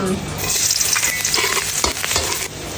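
Crushed garlic fries in hot oil with a loud, steady sizzle close by, a stirring scrape or two breaking through the hiss, no voices.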